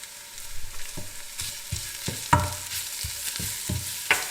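Chopped onions and garlic fry in a pan, giving a steady soft sizzle broken by repeated scraping stirs of a utensil, close up and without any voices.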